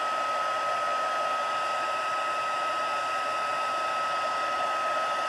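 A heat tool blows steadily and alone at close range, melting embossing powder on a card, with an even, high whirring hiss that never varies.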